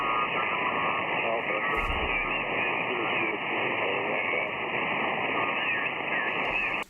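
An amateur radio station comes through a band-limited shortwave receiver under heavy hissing static, with voice-like fragments buried in the noise, a couple of short bursts, and an abrupt cutoff at the end.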